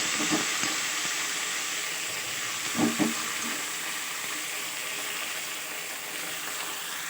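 Radish greens and mustard fish drop into a hot oil tempering, a steady sizzle and fry with a few brief stirring knocks near the start and middle, close and moderately loud.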